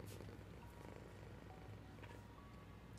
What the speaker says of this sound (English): Hear that purr, man.